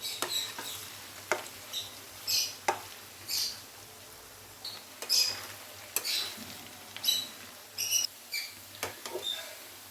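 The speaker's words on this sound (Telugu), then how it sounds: "అల్లం వెల్లుల్లి పేస్ట్ బాగా ఫ్రై అయ్యింది." Ginger garlic paste frying in oil for a chicken gongura pickle gives a soft crackling sizzle broken by repeated light pops and stirring scrapes at an uneven rhythm, close and fairly quiet, with no voices.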